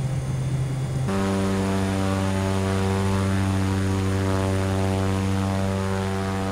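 Lear 45 business jet engines in a flight simulator game: a loud, steady, tonal engine drone that steps up in pitch and intensity after a second and then holds constant, with no voices.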